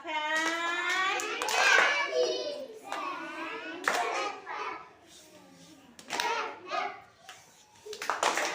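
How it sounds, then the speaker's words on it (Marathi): Schoolchildren in a classroom clap their hands in several loud bursts, mixed with children's voices and an adult speaking between rounds of applause. "जोरात टाळ्या वाजवा"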